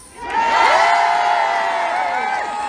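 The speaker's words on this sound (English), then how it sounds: "Can I just have a big cheer" A rally crowd at a Glasgow women's event cheers and whoops loudly, a burst of mixed voices swelling quickly and holding for a couple of seconds.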